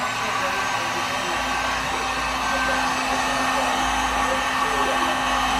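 A heat gun blows steadily on a vinyl seat cover for a Razor MX350 36V pit bike, a constant close whooshing hum with a faint tonal whine running throughout, with no pauses and no talk.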